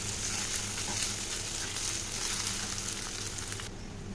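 Egg sizzles and fries in a hot pan as it is scrambled into bhujia, a steady close crackle and hiss running throughout with faint scraping from stirring.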